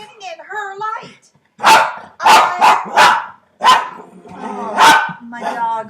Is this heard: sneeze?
no